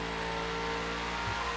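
A car engine revs steadily in the racing video game The Crew, played with a steering wheel, a loud sustained drone with a steady pitch throughout and no talk over it.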